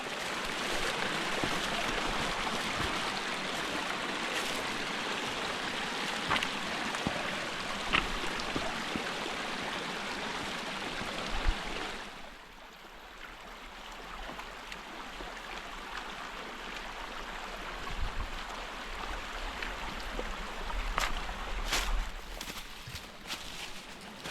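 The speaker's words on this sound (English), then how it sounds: "There's a lot of water here." Steady rushing of a stream flowing through woodland, a continuous broadband wash that dips briefly midway before returning at the same level, with no voices.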